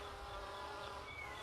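Bees buzz in a steady, dense drone from a hive of worker bees and a queen, faint and continuous with no voices over it.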